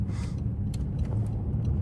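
Mercedes W222 S-Class pulling away with a steady low engine rumble and road noise, close and continuous throughout, no voices.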